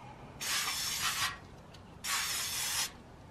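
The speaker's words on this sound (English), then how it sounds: "I'm gonna give them one more spray." Two long bursts of aerosol brake cleaner hiss onto the front brake pads of a 2004-2009 Toyota Prius, each under a second, separated by a short pause, close and fairly loud.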